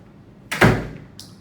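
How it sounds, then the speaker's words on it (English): A door fitted with a heavy-duty lock set swings shut with a single solid thunk, followed a moment later by a short metallic click of the latch, with no one talking. "now try closing the door."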